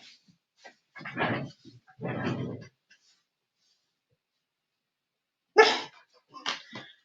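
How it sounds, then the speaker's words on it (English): A dog gives a few separate barks and yips with long pauses between, nearby, alongside some speech. "then stop barking"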